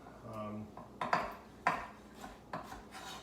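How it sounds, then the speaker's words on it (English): Knife rough-chopping baby corn on a cutting board for rice noodles with veggies, a few sharp separate chops with a low rasp in between, close and fairly quiet, with a voice talking briefly at the start. "So we'll just rough chop all these up."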